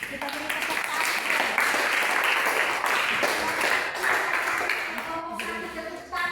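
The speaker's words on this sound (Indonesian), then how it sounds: "Kita beri tepuk tangan." Students applaud after a group finishes presenting in a classroom, with a loud, dense burst of clapping lasting several seconds as the teacher's voice carries over it.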